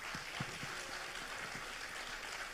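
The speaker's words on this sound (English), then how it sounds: "A round of applause for our speakers." A congress audience applauds its panel speakers in a soft, distant patter of many hands that forms an even texture, with a few sharper claps standing out near the start.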